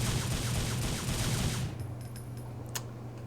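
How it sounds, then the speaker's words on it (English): Rapid gunfire from a character's pistols in the action game Devil May Cry, a dense loud burst of shots for about a second and a half, then cutting off into quieter game ambience with a faint hum. "The X button is to shoot my guns."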